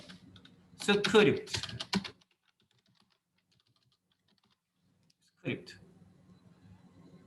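Script code being typed on a computer keyboard, a quick flurry of close keystrokes for about a second, then near silence, and a single later tap followed by faint clicking.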